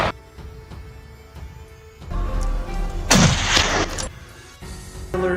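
Gunfire during a wild boar hunt by South African hunters and farmers: a heavy booming shot, then a louder sharp blast midway with a rumbling tail, fairly close and with no talking.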